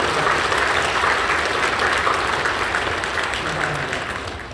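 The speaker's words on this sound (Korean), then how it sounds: "격려하며 박수 해주시죠." Congregation applauding during a church worship service: a dense, steady wash of many hands clapping throughout, fairly loud and fading slightly toward the end, with no voices over it.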